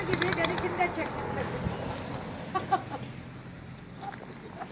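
Pigeons in a loft in Yenimahalle, Ankara, give soft coos and flutters with a few sharper calls, mixed with background room noise and some nearby talking.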